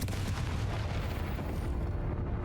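Fire-blast spell detonating in the Hogwarts Legacy game, a dense continuous roaring boom that fills the whole stretch, loud and sustained, slowly thinning toward the end.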